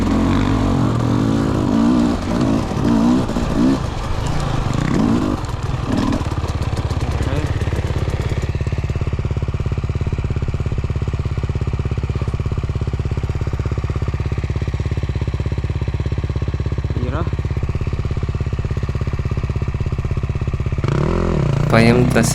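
A Husqvarna two-stroke enduro motorcycle churns through deep sand at an enduro event, its engine holding a steady, loud buzzing drone with some throttle surges early on, close to the listener throughout.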